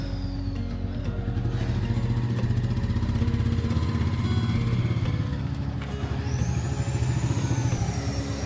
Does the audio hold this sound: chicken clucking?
no